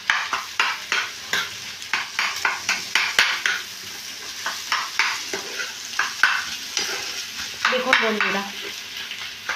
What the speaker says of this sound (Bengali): আমি সবকটা জিনিসকে ভালো করে মিশিয়ে নিচ্ছি।